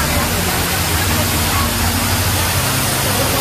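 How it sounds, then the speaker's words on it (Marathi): Steady broadband rush of the Khajina waterfall on a monsoon trek near Patnus, heard up close as a dense continuous roar with faint low murmurs of people beneath it. "सुंदर जवळून दाखवतो हा धबधबा"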